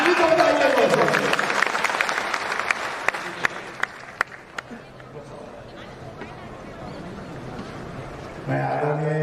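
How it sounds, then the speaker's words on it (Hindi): An audience at a state-level workshop in Patna's Bapu Sabhagar hall claps in a burst that thins into scattered individual claps. A voice is heard over the start, and a speaker begins talking at the end. "एक बार जोरदार ताली सबके लिए होना चाहिए।"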